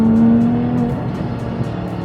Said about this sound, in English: you actually want to keep the revs high, and this car loves high revolutions.